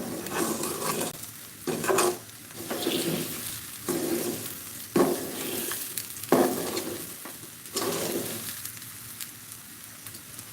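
Rice fries in a pot for pulao with a steady sizzle, broken by repeated scraping stirs of a spoon against the pot at an uneven pace, close and moderately loud.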